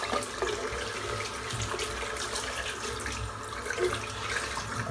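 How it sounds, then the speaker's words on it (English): Tap water running steadily into a sink while a shaving brush is rinsed, a loud continuous splashing stream close by with small shifts in the flow. "so I'm just going to rinse the brush off"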